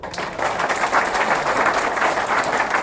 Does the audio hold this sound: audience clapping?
yes